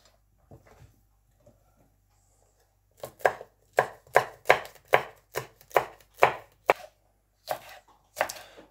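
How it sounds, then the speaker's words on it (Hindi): A knife chops green chillies on a board, giving about a dozen sharp, evenly spaced close thuds after a few seconds of near silence with faint handling noises. "प्याज काटने के बाद हम सब्ज़ मिर्चें काट लेंगे"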